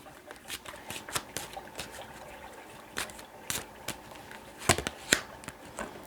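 Tarot cards being shuffled produce quiet, irregular riffling and flicking bursts with a couple of sharper snaps, close by and without talk.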